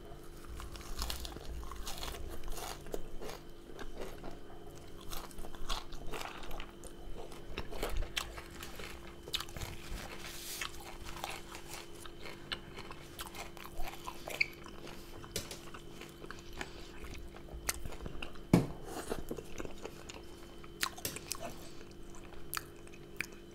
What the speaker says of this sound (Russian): Кушаем также кинзу и укроп.